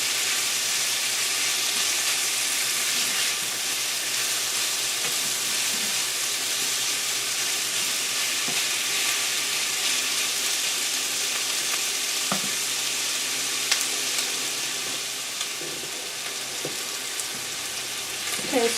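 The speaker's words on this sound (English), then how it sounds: "so the onions are cooking down" Onions frying in a pan give a steady, loud sizzle with a bright hiss that fills the whole stretch, plus a few faint clicks of stirring and no talking.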